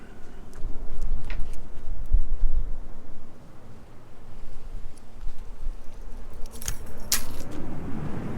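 Nissan car keys jangle and clink close by in a few short bursts, mostly near the end, over steady low outdoor rumble.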